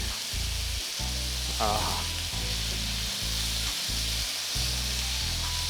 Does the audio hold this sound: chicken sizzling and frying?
yes